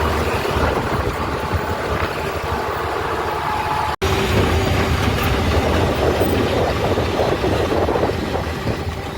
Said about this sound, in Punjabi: ਇਹਦੇ ਨਾਲ ਇਹ ਜਮਾ ਹੀ ਰੇਲ ਗੱਡੀ ਲੰਘਦੀ ਆ ਇਹ ਆਪਣੇ ਜਿਹੜੀ ਲੁਧਿਆਣੇ ਤੋਂ ਆਉਂਦੀ ਆ ਲਾਈਨ ਸਿੱਧੀ ਦਿੱਲੀ ਨੂੰ ਜਾਂਦੀ ਆ